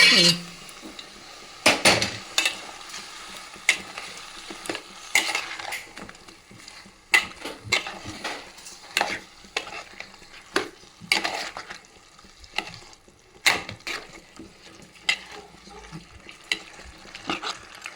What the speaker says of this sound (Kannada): ಇವಾಗ ಬೇಯಿಸ್ಕೊಂಡಿರೋ ಚಿಕನ್ ಹಾಕ್ತಾ ಇದ್ದೀರಾ ಮೇಡಮ್?